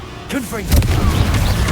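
A Confringo blasting spell in Hogwarts Legacy bursts into a booming explosion, a sharp impact followed by a rumbling crash, close and loud, right after a shouted spell name.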